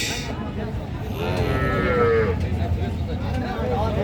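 A young calf at a cattle market in Sylhet, where small bulls and heifer calves are sold, gives one drawn-out moo close by over a background of murmuring voices and crowd noise.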